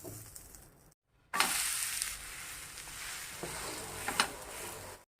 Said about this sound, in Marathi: आता दुसरी साईड पण आपण छान भाजून घ्यायची आहे.